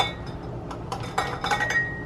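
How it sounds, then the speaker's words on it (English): Several small metallic pings ring out as canning jar lids seal, over a low background hum, faint and scattered, a few close together near the end. "You should start hearing them ping pretty quick."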